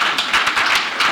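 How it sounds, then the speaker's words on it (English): Audience applause at a talk, brief and close, with crisp overlapping handclaps in a quick uneven patter. "Can we give him a round of applause, please?"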